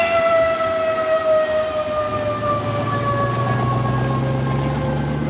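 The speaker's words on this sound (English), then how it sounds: "An air raid siren is still used to mark the noon hour in Hanoi." An air raid siren marking the noon hour in Hanoi, Vietnam: a long, steady wail with sustained tones, holding loud and unbroken over low rumbling background noise throughout.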